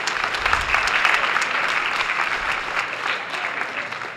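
Sustained audience applause for the mayor fills a hot high school auditorium at a September back-to-school greeting, steady dense clapping at moderate loudness throughout with no talk.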